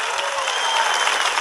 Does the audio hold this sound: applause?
yes